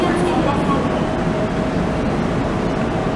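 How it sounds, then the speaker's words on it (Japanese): A six-car JR 227 series local train pulls in at platform 1 of Itsukaichi station on the Sanyo Line, a loud steady rumble and wheel roar with a platform announcement voice under it. "列車が到着します"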